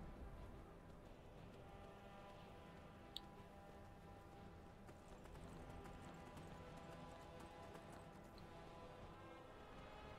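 A horse gallops through snowy country in Skyrim, a steady hoof clatter running the whole time over a dense, loud bed of game ambience and music, without talking.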